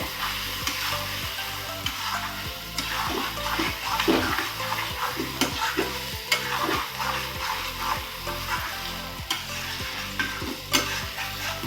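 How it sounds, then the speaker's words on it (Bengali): Fried potatoes and prawns are stir-fried in a pan, with a steady loud sizzle under repeated rhythmic scraping and clanking strokes of a spatula against the metal, close and continuous. "আলুগুলো দিয়ে ভালো করে কষে নেব"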